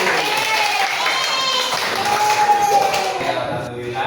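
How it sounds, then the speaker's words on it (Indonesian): A class of students bursts into applause for a lesson, a dense burst of clapping that runs steadily and fairly loud through the whole stretch, with some voices mixed in. "Tepuk tangan dulu."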